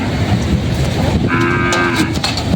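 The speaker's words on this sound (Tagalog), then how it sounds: "yung mga kalabaw na nabili na dito" A water buffalo at the Lucena livestock auction market lets out a single low moo partway through, over a steady outdoor rumble.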